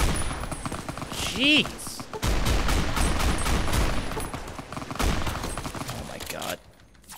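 Heavy gunfire from a modded weapon in Fallout New Vegas, dense and continuous rapid shots filling most of the stretch before cutting off near the end, with a man exclaiming over the din.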